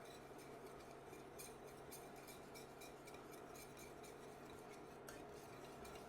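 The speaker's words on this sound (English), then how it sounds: "Let me give it a final stir." Italian hot chocolate gets stirred in a pot with a spoon, giving soft, steady scraping and clinking at close range, quiet and with no voices.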